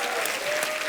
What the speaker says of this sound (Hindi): जोरदार तालियां हो जाएं आपके लिए